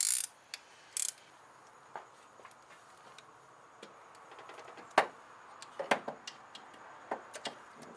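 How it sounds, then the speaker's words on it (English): Ratchet torquing motor mount bolts on a 1987-1990 B12 Nissan Sentra, with sparse sharp clicks and short ratcheting bursts scattered across a quiet background and no talk. "I'm just going to finish torquing down the remaining bolts on this mount."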